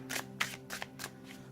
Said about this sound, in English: we'll just give it a good shuffle here on the Steampunk Tarot